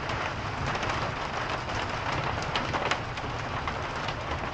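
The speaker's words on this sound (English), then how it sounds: "it's raining something hard" Heavy rain pours down on a farm during a storm, a dense, steady roar of drops hitting surfaces close by, continuous throughout with no voices.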